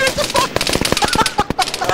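Rapid gunfire in the military shooter game Arma 3: sharp, close bursts of automatic and single shots crack in quick irregular succession, with faint voices underneath.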